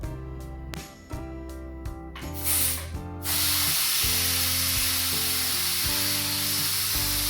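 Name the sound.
steam being released from a pressure cooker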